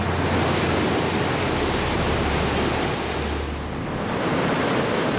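Sea waves surge and break steadily at Dinosaur Cove, a loud, continuous wash of surf with no voices, easing slightly for a moment before building again.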